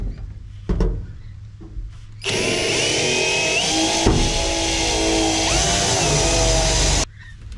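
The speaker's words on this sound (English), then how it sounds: "So I'm gonna drill a hole, just sit it in there" A power drill bores a hole in wood while an outdoor reptile enclosure is readied for winter, whining loud and steady for about five seconds after a few brief knocks, then stopping abruptly.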